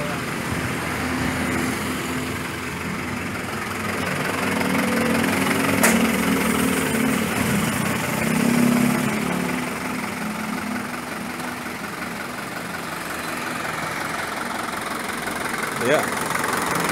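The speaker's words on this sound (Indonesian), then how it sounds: "Ini mesin diesel, tapi coba depannya dibuka tolong." With the hood open, a diesel engine in a Toyota Harrier or Daihatsu Taft fitted with an HHO device idles steadily at close range, a continuous low rumbling drone, while people talk nearby.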